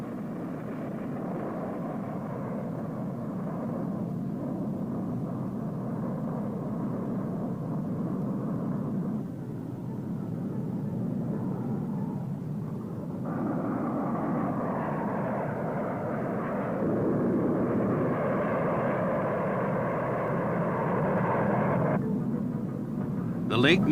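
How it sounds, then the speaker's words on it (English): A Convair F-102 Delta Dagger pilotless target drone jet takes off with a loud, steady jet roar that swells and brightens midway, then holds strong to the end. "This sequence shows a Convair F-102 Delta Dagger pilotless drone"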